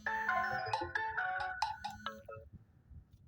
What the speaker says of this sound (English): I'm getting phone calls while this stuff is going on.